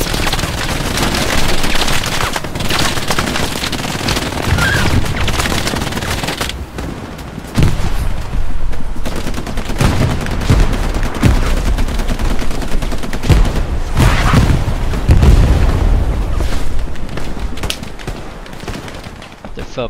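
Dense, sustained gunfire from Hell Let Loose, loud volleys and rapid bursts of rifle and machine-gun fire crackling continuously over twenty seconds, with heavier booming shots in the second half and talk mixed in beneath.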